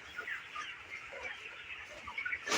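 Broiler chickens on a poultry farm in cold weather make soft, overlapping clucks and murmurs in a continuous flock chatter at moderate distance, with a brief louder burst at the end.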